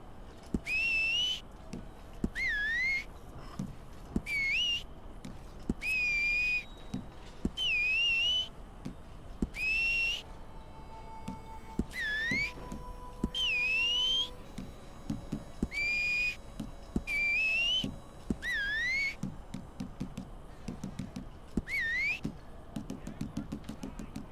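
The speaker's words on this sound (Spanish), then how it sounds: "Silbar." Player character in Red Dead Online whistling for a horse, a series of about a dozen short, sharp rising-falling whistles repeated at steady intervals with brief gaps, over faint background ambience and occasional clicks.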